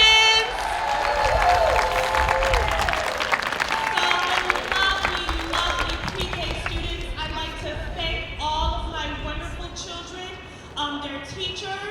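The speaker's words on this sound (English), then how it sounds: "Can everybody cheer for our pre-K students?" A crowd on a lawn cheers and claps for pre-K students at a playground ribbon cutting, loud at first and tapering, with children's high voices calling out over the fading applause.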